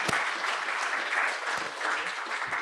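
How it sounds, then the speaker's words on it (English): Audience at a counter-corruption summit applauds two people on stage, a steady, fairly loud wash of many hands clapping that holds for the whole stretch. "let's give a warm round of applause to Sam and Karam"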